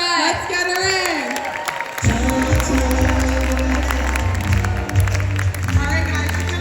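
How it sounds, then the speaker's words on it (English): Audience at a comedy night applauds and cheers to welcome a woman to the stage, the clapping and whoops mixed under loud music and voices, sustained throughout. "Let's give her a round of Welcome our applause."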